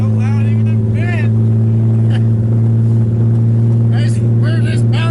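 Drift car on stiff coilover suspension, engine droning loudly and steadily, heard from inside the cabin with a constant low rumble and rising revs while people talk over it.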